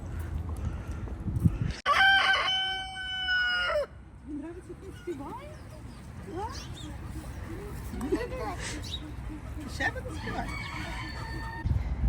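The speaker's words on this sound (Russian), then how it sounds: "оказывается в парке Победы поселились домашние куры. Курочки и петушки" Domestic chickens and roosters in Victory Park, Odessa, crow loudly and clearly several times over an outdoor hum. Softer clucks and calls follow.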